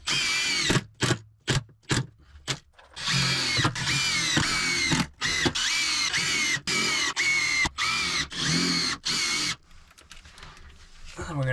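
A power drill drives screws into wood on a hand-dug Japanese spider hole build, with loud, close whirring bursts that start and stop repeatedly, each run a few seconds long, and short gaps between them.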